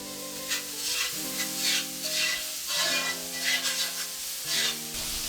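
Onions sauté over a high flame in a pan for a chicken pepper fry, giving a loud, steady sizzle broken by rhythmic stirring scrapes, close up with no talk.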